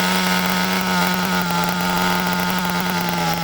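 HPI Nitro MT2 RC truck's nitro engine running steadily at a loud, close, high-pitched idle drone, with no cutoff occurring.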